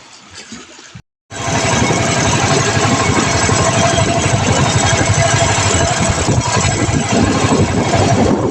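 A fishing boat's engine chugs loudly and steadily, running close by in a continuous mid-pitched drone over water after a brief gap near the start.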